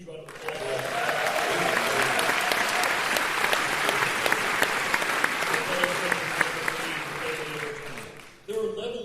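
An audience at a film festival applauds for Woody Harrelson, with sustained, fairly distant crowd clapping that holds steady before tapering off, and a brief louder sound near the end.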